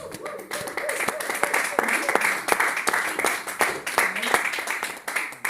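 Church congregation applauding and cheering during a French-language worship service, a dense wash of clapping under voices and shouts that carries steadily through the whole stretch.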